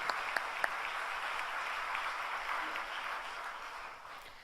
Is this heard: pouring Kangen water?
no